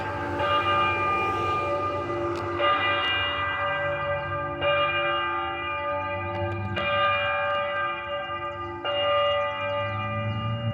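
A church bell chimes repeatedly, about five loud, ringing strikes spaced roughly two seconds apart, each tone sustaining and overlapping the next over a low background rumble.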